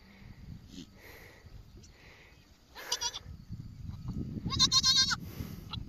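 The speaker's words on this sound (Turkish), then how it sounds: "Zeynep'in keçisi doğurdu." A goat bleats several times close by just after giving birth, with short cries building to a louder, wavering bleat near the end over rustling background noise.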